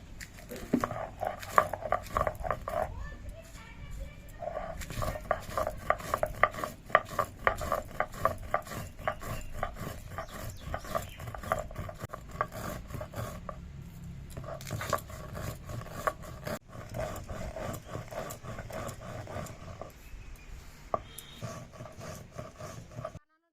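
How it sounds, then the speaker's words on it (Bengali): Spices ground by hand on a dry grinding stone with a stone pestle, a steady run of scraping, knocking strokes close by for most of the stretch, with brief pauses and faint voices in the background. "আজকে নোড়াটা ভিজাবো না শুকনো খোলায় বাটবো তো মশলা"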